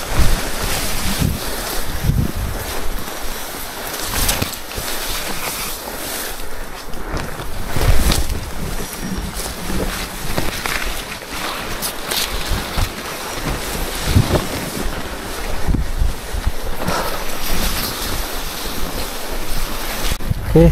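Water rushes steadily near a waterfall on a mountain trail on Mount Wilis, a loud continuous roar mixed with wind buffeting the microphone for the whole stretch.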